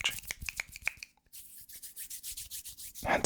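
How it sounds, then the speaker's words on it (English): Close ASMR scratching and rubbing on a microphone, a quick run of crisp, uneven strokes followed by a steady rhythmic series of soft brushing sweeps, with a brief pause near the start. "today, I'm just going to be doing some mic scratching"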